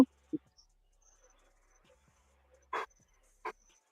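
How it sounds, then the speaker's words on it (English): Dogs barking in a few short, separate bursts, moderately near, with long quiet gaps between them. "I don't have no idea why my dogs are barking"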